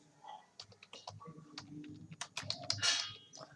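Keys clatter steadily on a computer keyboard while Excel column headings are entered, with quick irregular clicks coming in bursts that grow busier and louder toward the end, close and with no talking.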